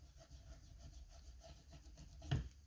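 An eraser rubs over pencil marks on paper in a beginner's Halloween candy-box scrapbooking project, a soft steady scrubbing close up, ending with a small knock.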